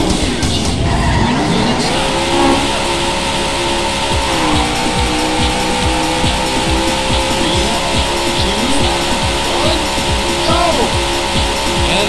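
Race cars launch off the grid in the Daytona USA arcade game, engines rising together into a loud roar, then tires squeal and skid repeatedly as the pack jostles through the opening corners.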